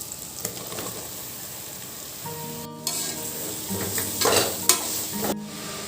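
Mushrooms sizzle in a pan of masala with chilli powder while being stirred, a steady frying hiss broken by scraping strokes of a spoon against the pan.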